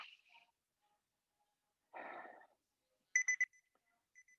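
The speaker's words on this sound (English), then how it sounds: "bear with me as I set my timer" A workout timer being set, giving a short cluster of three quick electronic beeps followed by a fainter lone beep, with a brief breathy noise beforehand in an otherwise quiet room.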